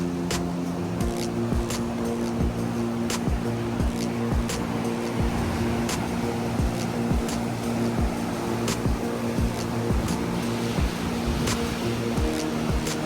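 Sea water surges into a rock cave on Stradbroke Island as a continuous, loud roar of churning surf, with scattered sharp clicks and knocks over the steady wash.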